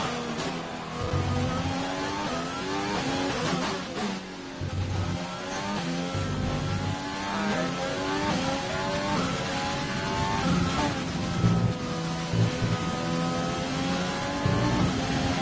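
Race car engine in a Hungarian Grand Prix racing video game, revving and shifting continuously with rising and falling harmonic whine, loud and sustained throughout.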